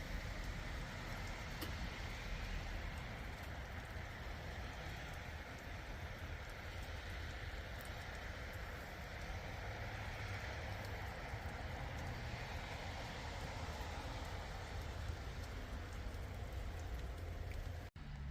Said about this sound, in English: it has started raining, but just drizzling